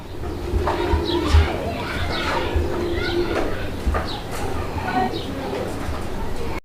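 Pigeons in breeding mood coo repeatedly in low soft rolling calls, close by, mixed with other bird chatter and a busy background.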